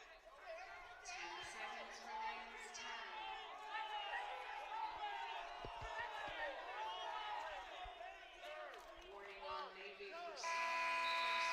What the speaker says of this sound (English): So as the buzzer sounds, you can hear the crowd coming to life.